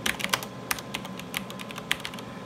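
Fingers typing on a computer keyboard next to an Altair 680 computer, a quiet run of irregular, close clicking keystrokes with short pauses between bursts.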